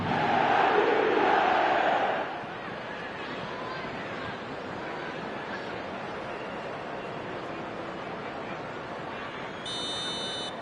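A football stadium crowd in a video game roars loudly for a couple of seconds, then settles into a steady, distant murmur that holds throughout.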